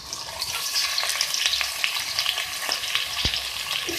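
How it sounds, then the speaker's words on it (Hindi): Meat (gosht) fries with onions in hot oil, a dense close-up sizzle and spatter that stays steady throughout, with a few crisp knocks of a spoon against the pot and no voices. "और इसके साथ ही मैं इसमें गोश्त ऐड कर दूंगी।"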